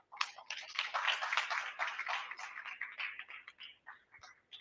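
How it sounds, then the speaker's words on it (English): An audience claps for a speaker at a student forum in Atlanta, a quiet, steady patter of many hands that thins and fades toward the end. "let's give her a round of applause"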